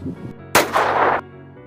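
A single loud gunshot in a Hindi drama scene, a sharp blast ringing out for about half a second after faint background sound, then quiet.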